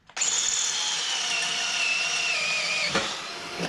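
A power drill with a 15/64 bit enlarges a hole for a 2008 Harley-Davidson Sportster 883 jiffy stand extension, running as a steady high whine for several seconds with a brief bite partway through before it stops.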